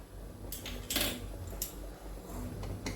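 A small kadhai set onto a gas stove burner, a few light metallic clanks and scrapes over a low steady hum.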